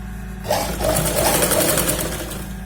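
A sewing machine starts up and runs a straight stitch along a salwar, a close, continuous rattling hum with a slightly uneven rhythm.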